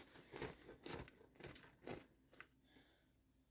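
A bread knife saws through a still-hot loaf of homemade white bread, giving four or five soft rasping strokes in a quick rhythm, close and quiet, before they fade into gentler scraping.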